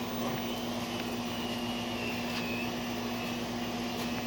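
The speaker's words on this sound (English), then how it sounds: "Helicopter." A helicopter passes overhead as a steady, droning rotor and engine hum, fairly faint and continuous with no talk.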